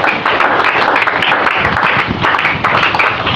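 Church congregation applauding in praise, a dense continuous patter of many hands clapping at close range, loud and steady for a few seconds with no speech.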